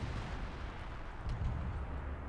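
Nebelwerfer rocket artillery firing in a World War II strategy video game: low, rumbling booms roll under a continuous noisy backdrop, with a sharper crack near the middle.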